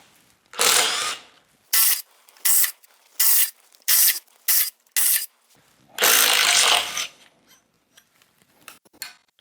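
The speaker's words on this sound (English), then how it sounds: "Now we're going to do that in reverse and get these out." A Makita impact gun backs stainless steel screws out of a wooden bowl blank's faceplate in a series of short, loud, close bursts, with quiet gaps between them.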